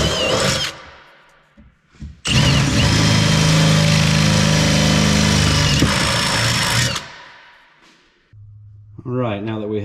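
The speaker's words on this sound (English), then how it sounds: "I'm gonna get the drill with the smaller drill bit first and drill each of these out, just a pilot hole" A power drill bores a pilot hole into the bed of a Toyota Tacoma, a loud steady whine lasting several seconds after brief startup bursts, with talking before and after.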